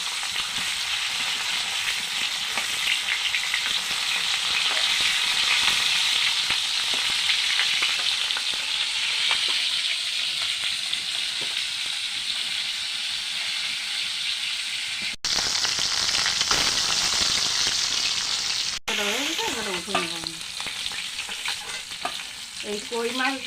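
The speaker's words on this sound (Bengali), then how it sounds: "এই কই মাছ দিয়ে আজকে তেল কই বানাবো।" Koi fish frying in oil in a pan for tel koi curry, a steady loud sizzle throughout with brief stirring and turning sounds near the end, no talking.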